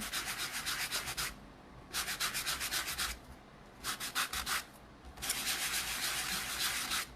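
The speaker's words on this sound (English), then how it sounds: "I am just going to start rubbing over it." Sanding block rubbing over an embossed paper surface in four scratchy bursts of rapid back-and-forth strokes, separated by short pauses.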